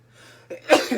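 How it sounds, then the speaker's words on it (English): A single short, explosive burst close by, a sneeze or cough after a brief breathy lead-in, with no talking. "I'm about to sneeze."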